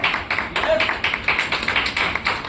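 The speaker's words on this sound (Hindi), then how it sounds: "तो एक बार जोरदार ताली बजा लीजिए।" An audience claps together at a motivational leadership talk, a dense, fairly loud burst of hand claps that carries on steadily throughout the short stretch.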